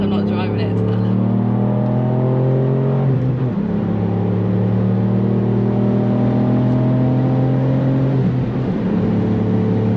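A Ford Fiesta ST's engine and exhaust drone steadily while driving, the pitch rising and falling with the throttle, as people talk over it throughout.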